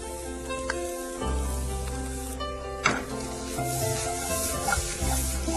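Shredded cabbage and carrot stuffing sizzles steadily in a hot pan, a continuous close frying hiss with a few stirring scrapes, no voices.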